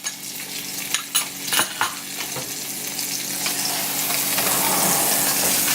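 Onions hit hot oil for chicken and rice, a few stirring clatters and bumps over a crackling sizzle that grows into a steady hiss, close up with no talking.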